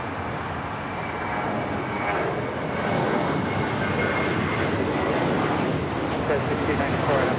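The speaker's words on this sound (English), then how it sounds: "586 taking off to Shanghai on the 777-300ER." China Eastern Boeing 777-300ER taking off, its jet roar rising gradually and building steadily, with voices talking over it.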